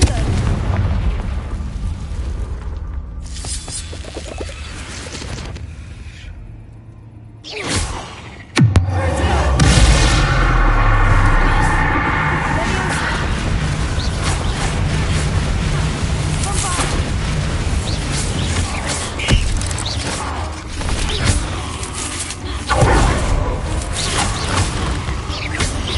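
A Confringo fire spell in Hogwarts Legacy bursts into a loud booming explosion partway through, followed by a sustained rumbling roar and scattered crackles, with a voice speaking around it.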